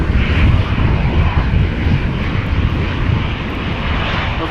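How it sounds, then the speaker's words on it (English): A KLM passenger jet departs Amsterdam Schiphol for Glasgow, a loud, close, rumbling engine roar that is strongest at the start and eases slightly as it continues, with no talk over it. "Over here we have KLM flight 1475 going to Glasgow."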